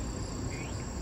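Insects chirping in grass, a soft, steady high buzz under a low ambient rumble, continuous and faint throughout.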